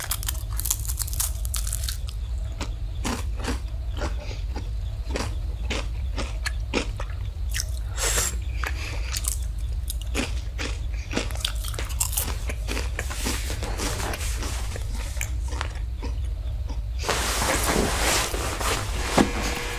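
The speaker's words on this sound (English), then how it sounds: "I just love eating crackers and drinking Arizona green tea." Crackers crunched and chewed close to the mic, in a steady run of sharp bites over a constant low background hum, with no talking.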